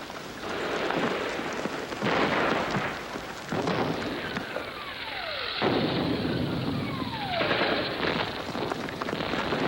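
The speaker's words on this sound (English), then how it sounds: "machine guns spray a deadly curtain of lead from above" Aerial bombing raid over a city street, with loud bursts of rapid machine gun fire and rumbling explosions in a noisy old newsreel soundtrack, falling whistle tones and sustained roaring between bursts.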